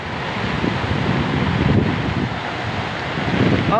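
Strong wind roars steadily during Cyclone Gulab, a continuous rushing buffet on the microphone with rain noise blended into the dense, unbroken wash.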